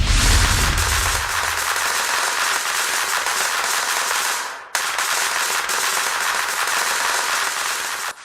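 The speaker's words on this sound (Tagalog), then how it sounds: "Ala Harry Potter ang labanan ng mga paputok ng dalawang grupo ng kabataan sa Iloilo City." Loud, continuous crackling bursts of firecrackers and thunder sticks fired back and forth between two groups of youths in an Iloilo City street fight, a dense rapid popping that drops out briefly near the middle and then resumes.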